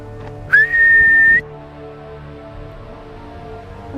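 One person whistles a single sliding note near a mountainside train station, a short rising tone that holds for about a second, clear and close over a quiet background.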